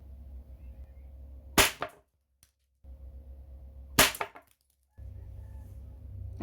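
A Gamo Magnum Replay air rifle fires twice at a padlock, each shot a sharp, loud crack with a quick metallic clank, separated by a low hum and brief silences.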